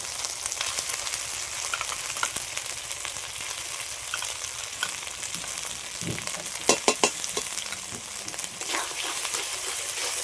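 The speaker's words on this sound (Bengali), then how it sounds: "এই মশলাটা দিয়ে দিচ্ছি" Yogurt spice masala fries with poultry chicken in a pan, producing a loud, even crackling sizzle with a brief burst of stirring clatter partway through, no talking.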